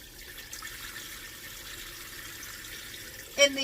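Water runs steadily into a garden barrel filled with soil and vegetable scraps as plants are watered, a soft continuous pouring hiss ending with a brief louder splash or knock.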